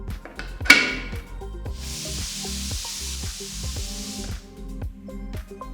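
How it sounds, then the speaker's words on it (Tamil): A loud burst of hissing steam from a pressure cooker cooking white peas, a sharp release followed by a steady rushing jet over a few seconds of kitchen noise. "குக்கரை மூடி 3 விசில் வர வரைக்கும் வேக விடுங்க"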